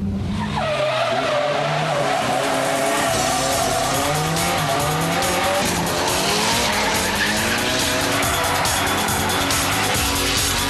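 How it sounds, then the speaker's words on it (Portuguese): A car drifts with its rear axle sliding sideways, tires squealing loudly and continuously over a roaring, revving engine, the screech wavering in pitch throughout. "a escorregada do eixo traseiro do carro. E andando com o carro sempre de lado."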